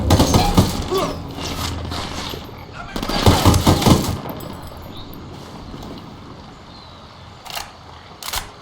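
Gunfire from the video game Ghost Recon Wildlands: loud, dense bursts of shots crackle near the start and again around the middle, with sparser pops toward the end, mixed with voices talking.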